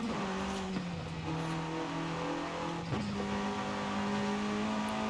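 A car engine drones steadily in Forza Horizon 5 while the car slides under locked brakes, with a few abrupt pitch drops and shifts in tone and no talking.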